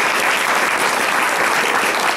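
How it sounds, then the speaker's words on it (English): An audience at a county commissioner candidate forum claps steadily, a dense, even wash of applause sustained throughout with no break. "So a round of applause for our candidates."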